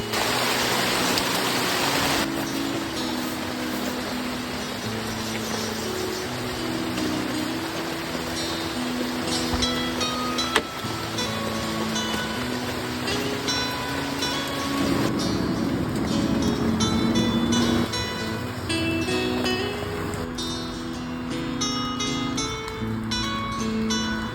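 Heavy rain pounding steadily with a dense roar, gusts of strong wind swelling and fading through it, heard from inside a hut shelter, with no talking.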